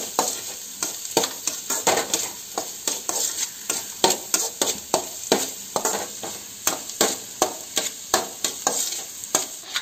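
Onion masala sautéing in a pan for an egg curry gives a continuous sizzle broken by a regular rhythm of quick, close spatula strokes across the pan. No voices.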